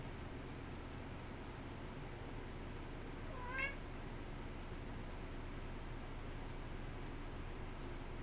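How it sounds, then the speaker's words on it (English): A house cat gives one short, faint meow midway through an otherwise quiet room with steady low background hiss. "Cat starting to meow at me."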